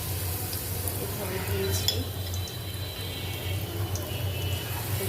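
Banana fritters frying in well-heated oil give a steady, close sizzle throughout, with someone speaking briefly over it.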